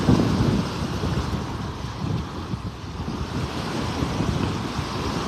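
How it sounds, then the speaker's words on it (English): Steady wind roars across the microphone during a walk along a beach in North Naples, Florida, with surf washing continuously underneath, loud and unbroken throughout. "Kind of walking into the wind now."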